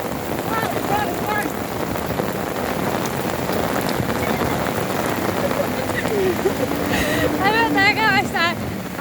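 Heavy rain pours down during a flood in Antakya, Hatay, a loud constant hiss with wind buffeting the microphone while a voice talks over it.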